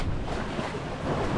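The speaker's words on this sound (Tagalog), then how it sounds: "Oh, yan ang mga alon oh." Sea waves slosh and wash around a small fishing boat at sea, a steady, moderately loud surge mixed with wind buffeting the microphone.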